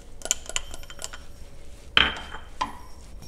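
Sausage goes into a hot pan among metal clinks and utensil knocks against cookware, followed by a brief burst of sizzle, close and without voices.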